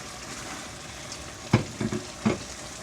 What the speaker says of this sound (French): Et là, maintenant, à la fin, on ajoute notre poisson salé dedans.